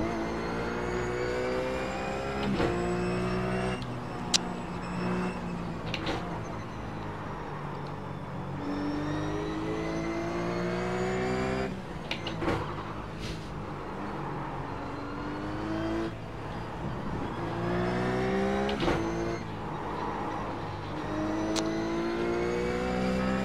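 A RUF C-Spec race car engine in iRacing drones steadily at Virginia International Raceway's Grand West course, rising and falling through gear changes and revs with brief shift breaks, loud and continuous throughout.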